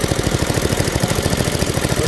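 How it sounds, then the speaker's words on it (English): Small mini bike engine idling steadily right after its carburetor was cleaned, a close, even rhythmic putter with regular firing pulses and no talk. "it's idling really good now"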